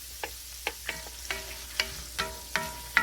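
Radishes frying with bacon in a cast iron skillet over medium heat, a steady close sizzle broken by a string of sharp pops and crackles roughly every half second, with no talking.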